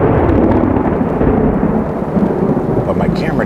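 Loud, continuous rumbling thunder rolls through a heavy Florida rainstorm, with steady rain noise underneath throughout and no voices.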